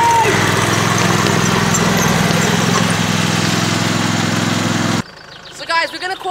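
A lawn tractor with hydrostatic transmission and a Land Rover rev their engines at the start of a drag race, a loud continuous motor drone that cuts off abruptly, followed by brief quieter sounds.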